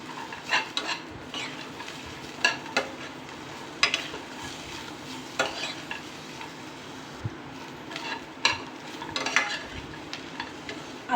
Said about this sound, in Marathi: हे शेंगदाणे याच्यामध्ये घालून 2 ते 3 मिनिट असं आपण हलवून घेणार आहे